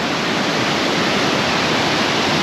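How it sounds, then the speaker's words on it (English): Josephine Falls in Far North Queensland pours into a rocky swimming hole, giving an unbroken, loud hiss of rushing water that stays even throughout, with no voices. "There you go, Josephine Falls."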